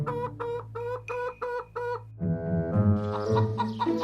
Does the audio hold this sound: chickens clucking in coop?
yes